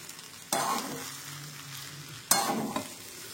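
Fried rice with mixed vegetables in a pan, two sharp scraping strokes of a spatula over a low steady sizzle, close and fairly quiet, with no speech.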